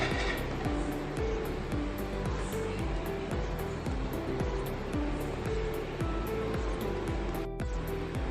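Yogurt being beaten in a bowl for jalebi batter, a steady rhythmic series of quick whisk strokes scraping and slapping close up, evenly paced throughout with no talking.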